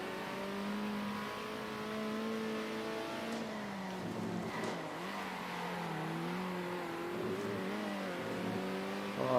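Race car engines from the video game Circuit Superstars drone steadily, shifting pitch as the cars accelerate and rev. The sound is continuous and moderately loud, with no talking.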